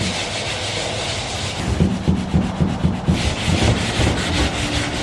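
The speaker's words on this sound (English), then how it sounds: "And then the rest I sanded by hand, but obviously that's not a good enough sand." Wooden furniture being sanded by hand, a steady rough rubbing with rhythmic scraping strokes in the middle, close and fairly loud, with no talk.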